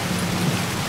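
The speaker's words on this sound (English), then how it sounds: "Oh, it's raining this time." Steady rain pours down in Red Dead Redemption 2 Online, a continuous even hiss of falling drops on surfaces, with a low rumble underneath and no voices.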